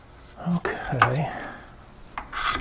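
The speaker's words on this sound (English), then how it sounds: "this is my somewhat old and dirty looking cabinet scraper" An old cabinet scraper rasps across a clamped piece of turned wood in a few short, close scraping strokes, with faint clatter between them.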